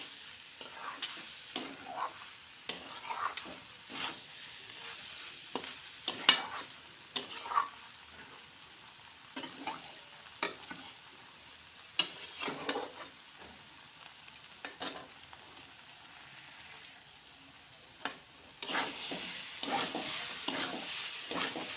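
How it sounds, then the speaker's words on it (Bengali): Lentils frying with spices for dal tarka while being stirred: a soft sizzle under repeated scraping strokes of a spoon in the pan, quiet and close, with a busier sizzle near the end. "ডালটাকে মশলাটার সাথে ভালোভাবে ভেজে নেব।"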